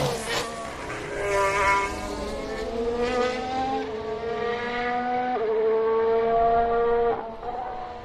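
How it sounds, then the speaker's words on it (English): A Force India Formula 1 car passes during testing at Barcelona, its high engine whine climbing through gear changes, loud and close before fading slightly as it moves on, with no talk over it. "Here's the Force India."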